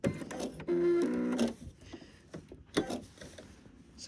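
A sewing machine stitches a thermal-lined Roman blind, then its automatic cutter trims the thread. A short motor whir leads into a longer buzzing run, followed by clicks and mechanical clacks, close-up with no voices.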